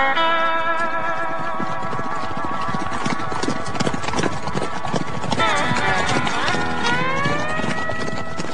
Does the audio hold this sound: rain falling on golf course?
no